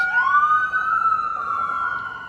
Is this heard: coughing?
no